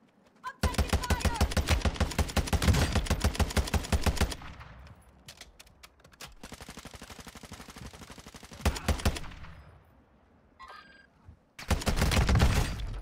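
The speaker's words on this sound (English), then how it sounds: "I'm taking fire." Rapid automatic gunfire in a video game, with bursts of incoming shots heard close and steady, separated by pauses, while a player talks over part of it.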